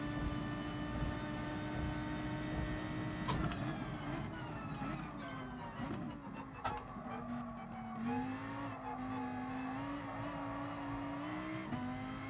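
Lamborghini race car in the video game GT Sport, a sustained engine drone holding steady pitch, dipping and rising with gear shifts and throttle changes, fairly quiet throughout with no talking.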